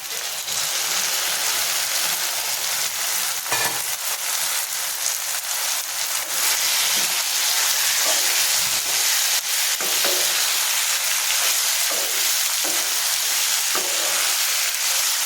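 Cluster beans sizzle and fry in a hot pan while being stirred, a loud continuous hiss with occasional scraping and clatter from the stirring, close and with no talking.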